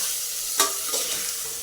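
Spices, including goda masala, are mixed in a frying pan while making masale bhat. A steady hiss of sizzling oil runs throughout, with one sharper stir or scrape near the start, and nobody speaks.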